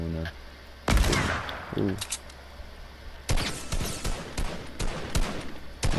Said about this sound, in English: That shotgun is mad in there.